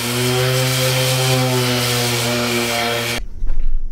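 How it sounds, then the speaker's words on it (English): A loud power sander drones steadily with a buzzing motor hum against a wood and epoxy river table for about three seconds, then cuts off abruptly, leaving faint knocks and handling noise. "Back to sanding."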